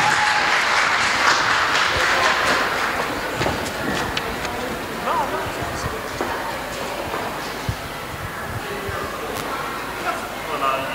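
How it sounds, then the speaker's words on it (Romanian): An audience at a school event in Botoșani honouring the poet Mihai Eminescu applauds the named students, a steady, full clapping that carries on throughout with a few sharper claps on top. "Vă rugăm să-i aplaudați!"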